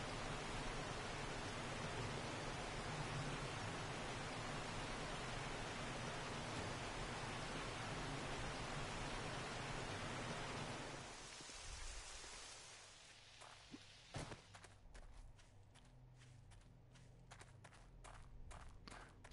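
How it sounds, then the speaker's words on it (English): Steady hiss of rain in the video game 7 Days To Die for about ten seconds, then it abruptly fades out, leaving quiet with a few scattered clicks and footstep-like taps. "It's funny how the rain just stops just like that"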